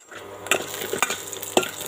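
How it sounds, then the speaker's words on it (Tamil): Garlic, red chili and ginger sizzle steadily as they are sautéed in a pan, with a few close scraping stirs of a utensil against the metal. "பூண்டு, சிகப்பு மிளகாய், இஞ்சி எடுத்து வச்சுருக்கோம். இதை சேர்த்து வதக்கிக்கலாங்க."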